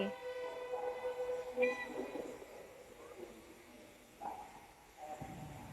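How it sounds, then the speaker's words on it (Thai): A steam locomotive train rolls into a Thai railway station, a steady distant rumble with tonal whistle or horn-like lines rising and fading over several seconds, heard alone without talking. "ขบวน ธรรมดาที่ 262 ก็กำลังจะเข้ามาเช่นกัน"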